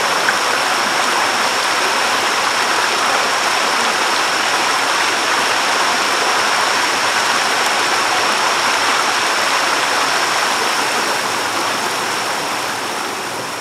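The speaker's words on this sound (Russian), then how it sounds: "Так называемый водопад." Steady, dense rushing of a waterfall in Sri Phang Nga National Park, Thailand, a continuous broadband roar with no pauses, close and loud throughout.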